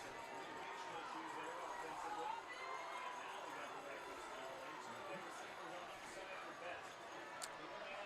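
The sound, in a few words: football crowd cheering at a high school game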